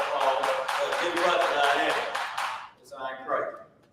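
A group at a religious class claps for Qadash in a loud, dense, steady burst that stops abruptly, followed by someone speaking.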